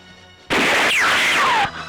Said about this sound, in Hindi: मैं तुझ पर एक गोली चलाकर सारा हिसाब ले लूंगा